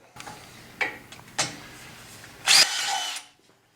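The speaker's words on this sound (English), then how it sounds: "I'm just going to go straight to a 3/8 drill bit and I'm going to come in here at an angle and drill that out" A power drill with a 3/8 bit bursts on in a few short whirring spurts, then runs for a longer burst at close range, drilling at an angle, before stopping.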